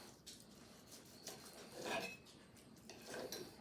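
A knife saws through a grilled ribeye steak on a plate, giving faint scrapes and soft clinks of metal against the dish in a few short strokes, quiet and close with no talk.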